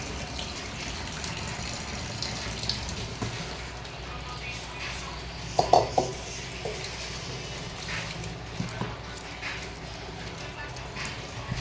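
A kitchen tap runs steadily into a sink while greens are washed, a continuous watery hiss with a few brief clatters in the middle, under a voice talking throughout.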